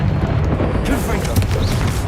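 The Confringo explosive spell goes off in the video game Hogwarts Legacy as a loud, booming burst amid continuous game combat noise, with a player's voice calling out over it.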